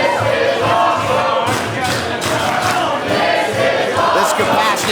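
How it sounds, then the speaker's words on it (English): A capacity wrestling crowd in Kansas City chants loudly and rhythmically at a Central States Wrestling show, a dense, swelling roar of voices with repeated pulses, no commentary over it. "This capacity crowd getting the high chant."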